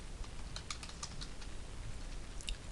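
Quiet taps on a computer keyboard as a folder name is typed, a short cluster of keystrokes over a steady background hum with no talking.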